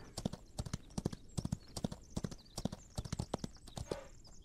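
Horse hooves strike in a rapid rhythmic clip-clop in the Wild West survival video game Outlaws of the Old West, a steady loud galloping pattern running throughout, with a brief faint extra sound near the end.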